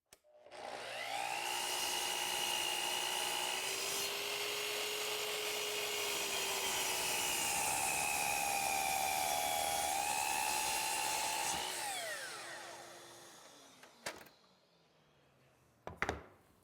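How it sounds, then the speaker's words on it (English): A miter saw cuts wood pieces for a tiled table frame, one long continuous whine with steady tonal harmonics lasting about eleven seconds. The pitch dips slightly mid-cut, then winds down, followed by a couple of light knocks. "That takes care of our work at the miter saw to create the frame."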